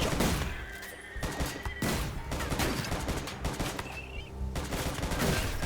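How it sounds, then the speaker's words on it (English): Rapid bursts of gunfire from a RimWorld video game battle, a dense, continuous fusillade of overlapping shots at steady volume with background game sounds. "they are firing in melee combat"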